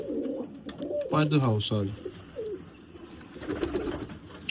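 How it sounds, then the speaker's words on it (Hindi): Pigeons cooing close by in a bird keeper's loft in Lahore, several soft throaty coos in short bursts, with people talking intermittently. "ये है कबूतर।"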